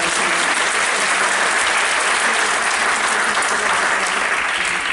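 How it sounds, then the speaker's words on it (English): A crowd applauds a panel discussion, dense and even clapping filling the room at full volume for several seconds without pause. "So a round of applause for everybody up here."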